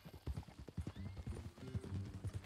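Hooves clip-clopping as a horse walks in Red Dead Redemption 2, a close, uneven run of knocking steps with a faint whinny-like tone beneath.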